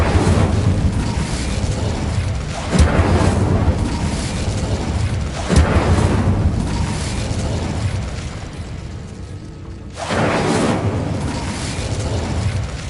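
The Incendio fire spell is cast in Hogwarts Legacy as a continuous roaring, fiery rush. Deep booming bursts swell repeatedly over it, loud and close throughout.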